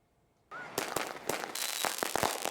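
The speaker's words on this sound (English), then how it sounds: "Fireworks and a balloon release tonight for Izzy" Fireworks go off at an evening birthday memorial celebration with a balloon release, with a dense run of crackling pops and bangs after a brief quiet start, loud and continuous.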